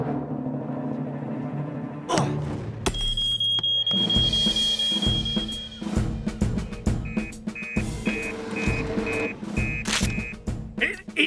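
A cartoon fire alarm at the Cut Price supermarket rings out as a steady high electronic tone, then repeated short beeps, mixed with music and busy animated sound effects.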